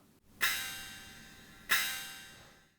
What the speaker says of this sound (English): a couple of splash cymbals being played together